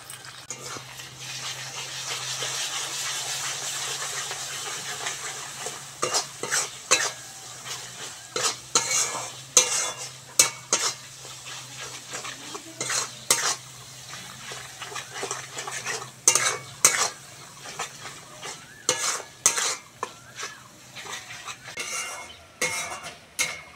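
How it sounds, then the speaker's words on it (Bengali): Spice paste of ground chilli, ginger and cumin with turmeric and salt being stir-fried in a pan, a low sizzle under repeated sharp scrapes and clinks of a utensil against the pan, coming in irregular bursts. "খুব সুন্দর করে কষে নিয়েছি মশলাটা"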